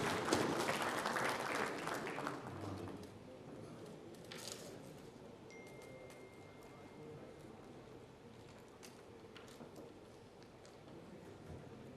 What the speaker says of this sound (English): Yeah, big round of applause.